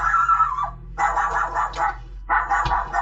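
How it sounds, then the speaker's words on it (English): A dog at night gives a few close, whining yips and whimpers in short bursts separated by brief pauses, alone with no talk. "Hey doggy."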